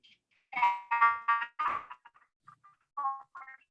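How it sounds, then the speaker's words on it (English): A phone's electronic ringtone sounds during an online meeting, a short melodic run of tones in bursts with gaps between them, fairly clear and with no talk over it. "Yeah, John, you've got to mute your phone"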